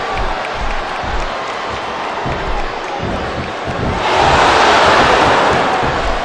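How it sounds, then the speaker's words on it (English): A large arena crowd in the wrestling video game SmackDown vs Raw 2007 roars and chants steadily, swelling louder midway through as a dense, continuous wall of voices. "Wow, listen to that chant, Taz."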